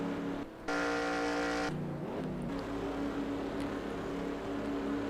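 Race cars in a racing video game set at Richmond head toward the pits, their engines droning loudly and continuously with shifting tones as a cluster of cars passes.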